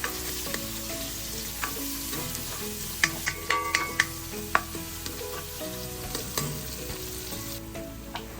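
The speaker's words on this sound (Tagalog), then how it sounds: "Kapag medyo brown na yung bawang, isunod na natin itong isang malaking sibuyas." Garlic and a large onion sizzle and fry steadily in a pan, with scattered clinks and scrapes of stirring, close and alone with no talk.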